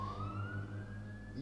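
A fire engine siren from a nearby fire station rises in a steady upward wail, heard faintly through the room over a low background hum.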